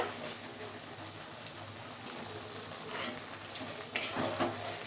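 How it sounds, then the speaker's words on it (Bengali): Spices frying in oil and ghee for a vegetarian dish, a soft continuous sizzle and crackle with a few louder stirring scrapes near the end, no talk over it. "মশলা তো আমার কষানো হয়ে গেছে, দেখো তেল ছেড়ে দিয়েছে"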